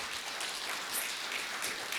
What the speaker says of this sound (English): can everybody please give a round of applause to your amazing director, Carolyn